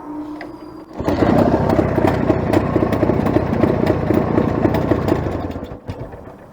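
A ČZ 472.5 two-stroke motorcycle engine with detonation and hot-spot ignition problems starts up and runs loudly and close by, a buzzy, rattling idle with a steady rhythmic pulse before it drops off.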